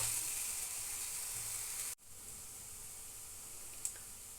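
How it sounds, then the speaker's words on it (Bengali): Onion fries in a pan for chicken crepes, a soft, steady sizzle with a brief dropout midway and then a quieter continuous hiss. A single small clink comes near the end, and nobody speaks. "পেঁয়াজটা দেখুন আমার বেশ ভালো মতন ভাজা হয়ে গেছে"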